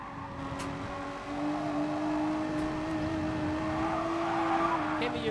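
Race car engines from the Gran Turismo Sport video game hold a steady, continuous tone throughout, loud and sustained, with no voices over them.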